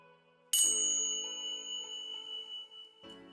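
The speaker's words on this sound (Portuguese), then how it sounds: "Pode-se utilizar também tinsas, ou os sinos tibetanos" A single bright Tibetan bell is struck once, its clear metallic tone ringing out and slowly fading, followed by a second soft strike near the end.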